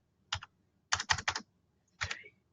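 Bursts of computer keyboard typing as a library card number is entered: a short double tap, then a quick run of keystrokes, a pause, and a final cluster, close and crisp in an otherwise quiet room.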